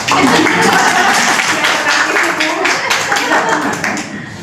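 A group of former junior high students at a school reunion clap their hands together, a loud, close, continuous clatter of many palms that persists for several seconds while voices chatter over it.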